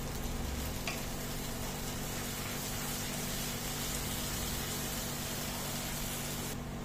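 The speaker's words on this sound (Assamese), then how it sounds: "এয়া মই গোটেইখিনি ভালদৰে ভাজি ললো।" Spices, bay leaf and tomatoes fry in a pan in a home kitchen, giving a dense, steady, close sizzling hiss that runs without a break for the whole stretch, with no talk over it.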